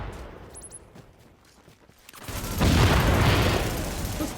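Explosions and rapid gunfire from the video game The Division during a co-op side mission, a dense burst of booming blasts and crackling shots swelling loud after a quieter stretch.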